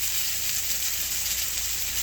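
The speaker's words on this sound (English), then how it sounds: "Sizzle, sizzle, toil and sizzle." Continuous sizzling hiss of chicken frying in a pan, steady and fairly loud, with no voices.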